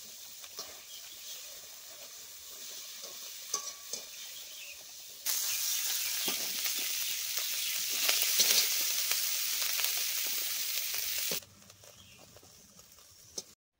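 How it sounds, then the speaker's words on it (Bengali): Prawns fry in hot oil in a kadai. A faint sizzle swells into a loud, dense hiss for several seconds, then drops back to a quieter crackle. "চিংড়িগুলোকে হালকা লাল লাল করে ভেজে নিলাম।"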